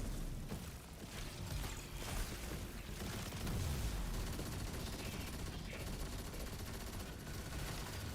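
Dense video game gunfire fills the whole stretch, a continuous layered barrage of shots and booms with no pauses, while a player talks faintly underneath.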